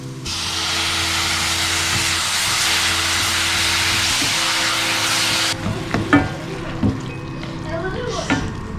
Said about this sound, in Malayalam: നേരത്തെ പേസ്റ്റാക്കി വെച്ചിരിക്കുന്ന തക്കാളിയുടെ പൾപ്പില്ലേ, അത് ഒഴിച്ചു കൊടുക്കുകയാണ്